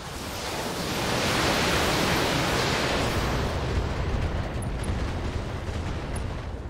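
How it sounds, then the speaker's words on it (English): A mech in the Battletech video game fires all its weapons at once, producing a loud, sustained roaring blast of noise that swells over the first seconds and then rumbles on, with faint high pings near the end. "Firing all weapons."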